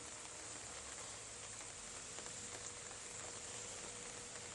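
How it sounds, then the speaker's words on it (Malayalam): Light, steady rain falls in Kottayam as a continuous soft hiss of drizzle, faint and even throughout with no voices. "ഇപ്പോഴും മഴ പെയ്തുകൊണ്ടിരിക്കുന്നു."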